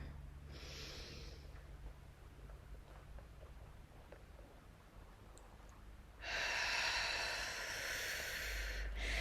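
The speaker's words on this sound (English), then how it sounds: "Hold and exhale. And we'll breathe in again." Person breathing during a guided breathing exercise: a slow, soft, close exhale fades out, then a strong, deep inhale swells near the end.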